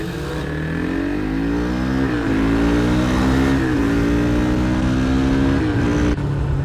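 A Geon Scrambler 300 motorcycle engine braking sounds loud and close as a droning note, with the pitch stepping down and rising again over several gear changes, with no voices.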